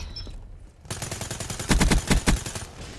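Rapid automatic fire from the Cerberus gun in Call of Duty: Black Ops 3, a dense burst starting after a short pause and growing louder with heavy repeated thumps toward the end.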